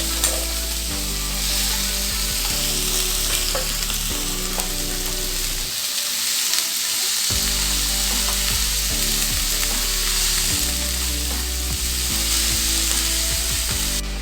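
Spinach and sliced onion frying with chilli powder in hot oil for a Kerala spinach thoran, a steady loud sizzle throughout with a brief drop midway, occasional stirring scrapes, no talk.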